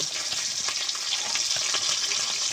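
Continuous loud, hissing sizzle of snakehead fish frying in hot oil, close up and steady throughout with no talking.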